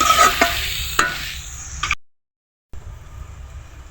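Bitter gourd slices stirred with a spatula in a frying pan, dry scraping and soft sizzle with a few sharp utensil knocks, then a brief silence before quieter sizzling resumes.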